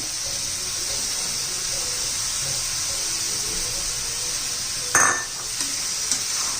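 Moong dal fries in a pan with a constant soft sizzle and hiss, punctuated near the end by a brief louder scrape of stirring, close and without speech.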